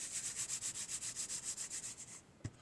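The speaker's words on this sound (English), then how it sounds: "And then I'm just smoothing this out with my hands very gently" Hands gently smooth glued napkin paper onto a junk journal page, making a soft, steady rhythmic rubbing of about a dozen quick strokes, close and quiet, ending with a small tap.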